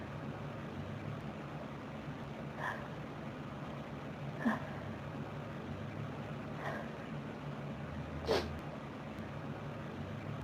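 A dog goes through a sneezing fit, giving four short, sharp sneezes spaced about two seconds apart. They sound fairly faint against a low, steady background hum.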